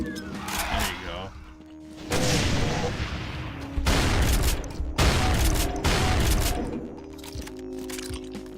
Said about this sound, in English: We can chuck a grenade.